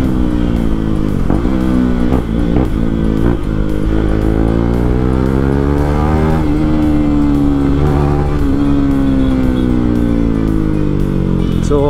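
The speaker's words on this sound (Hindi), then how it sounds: "तो KTM RC 200 में BS4 वाला 390 का एग्जॉस्ट लगा है, वो भी डी कैट। तो आगे चल रही है अपनी RC" A KTM RC 200 motorcycle with a de-catted BS4 KTM Duke 390 exhaust is ridden along a road. The engine drones loudly and continuously, rising and falling with gear changes, and wind noise runs underneath.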